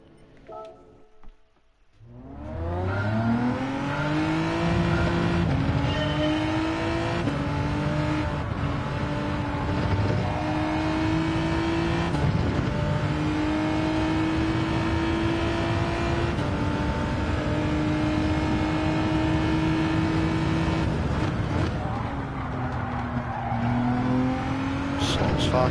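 Race car engines in a racing video game, including a GTR, drone steadily at high revs, pitch rising and shifting through gear changes, with a voice talking over the engine.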